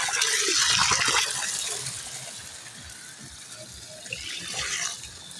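Water running from a tap to fill a bucket for a household, a steady close gushing splash, louder at first and then settling, with a slight swell near the end and no talking.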